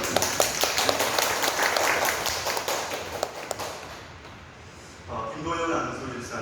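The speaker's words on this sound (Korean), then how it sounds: "우리 박수로 축복하겠습니다" A church congregation at Sunday worship claps in welcome for a newly registered family, a dense burst of applause that fades out before a voice begins speaking.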